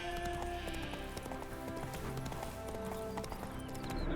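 Roach, the horse in The Witcher 3, trots with steady rhythmic hoof clip-clops, close and clear over a layered ambient game soundscape, with a brief whinny in the mix.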